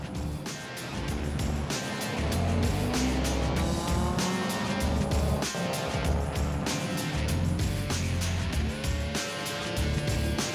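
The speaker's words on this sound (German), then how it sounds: "Die Autos starten zum zweiten Lauf." Touring race cars, including a powerful Volvo 240 Turbo among BMW M3s and Mercedes 190 Evos, roar around a circuit in a racing heat, with engines howling continuously and tires squealing through corners, loud and close.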